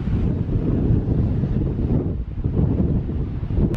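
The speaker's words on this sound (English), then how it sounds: "So it's really windy" Heavy, steady wind buffeting the microphone on the California coast, a constant low roar with gusty fluctuations throughout.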